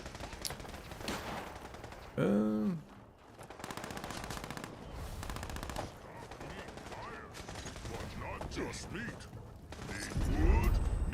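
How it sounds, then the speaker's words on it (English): A Tesla rifle fired in the video game Fallout 76, with electric crackling bursts and mechanical game sounds under ongoing voice chat and in-game effects, fairly quiet overall. "Two-shot Tesla rifle."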